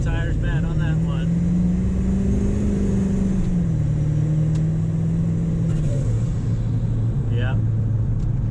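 A 7.3 Powerstroke diesel truck launches hard and spins its tires, a steady loud engine drone rising and falling in pitch over several seconds, with faint chirps above.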